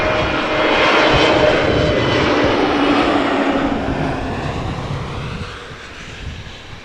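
EasyJet Airbus A320neo arriving at Amsterdam Schiphol Airport on a summer evening, a loud, steady jet-engine roar that holds, then slowly fades as the plane passes.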